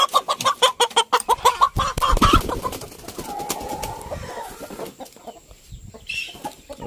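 Bangkok chickens, fighting-breed fowl, cluck in a rapid rhythmic series up close, then the calls break into scattered squawks and quieter clucking with other birds in the background.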